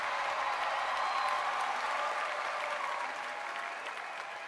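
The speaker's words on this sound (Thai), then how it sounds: "ขอเสียงปรบมือให้กับแชมป์ซีซั่นที่5ของเรา" A studio audience at a Thai singing competition show applauds the season champion, with dense, sustained clapping that holds loud and even before easing slightly at the end.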